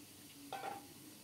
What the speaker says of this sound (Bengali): আরেকদিকে রুই মাছের মাথাটা ভাজতে বসিয়ে দিলাম